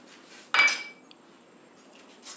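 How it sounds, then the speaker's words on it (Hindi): A pan is set down with one sharp metallic clank while chicken fajita topping is being cooked, followed by a faint scrape and quiet clinks, close by with no talk. "इसके लिए पैन में थोड़ा सा ऑयल लें"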